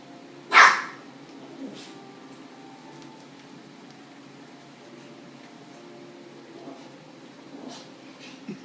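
Dogs playing indoors let out one sharp, loud bark, followed by a few faint scattered yips and noises over a quiet room hum.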